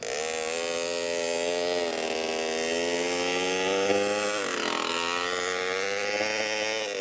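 A small engine revs steadily after a carburettor adjustment, a loud, continuous buzzing drone with rising and falling pitch, close by and without speech.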